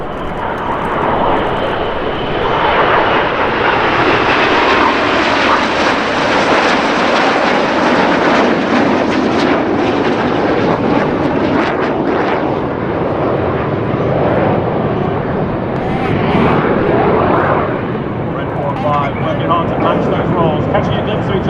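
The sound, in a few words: RAF Red Arrows jet aircraft flying display at Oshkosh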